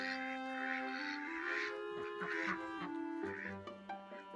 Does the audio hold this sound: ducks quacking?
yes